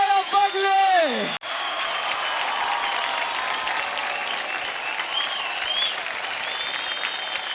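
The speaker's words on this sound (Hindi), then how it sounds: "जोरदार ताली हो जाए अब्बा के लिए" A studio audience on the Dance India Dance stage bursts into loud, sustained applause for a dance performance, a full crowd of clapping hands with cheering and a host's voice at the start.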